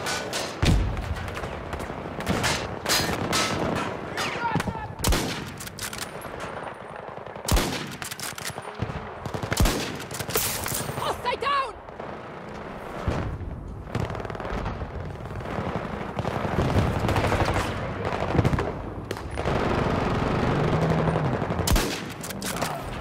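Bursts of automatic and single-shot gunfire in a Battlefield 2042 match, repeated loud volleys and thuds scattered across the scene, some close and some farther off, with no clear talk.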